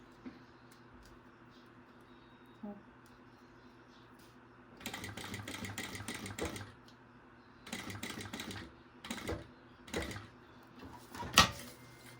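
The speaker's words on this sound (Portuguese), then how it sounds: "E vou começar a costurar aqui" A sewing machine stitches fabric for a simple pencil case in several short runs of rapid mechanical whirring, separated by pauses, with small clicks in between.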